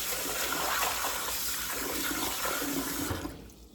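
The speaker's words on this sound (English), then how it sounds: "Now I want to put them in a bowl and rinse them some more" Dry beans being rinsed in a bowl, with a steady rush of running water and splashing that fills most of the clip before cutting off abruptly near the end.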